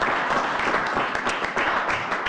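Applause from an audience at a town board meeting, a steady, dense wash of many hands clapping that holds at an even level for the whole stretch.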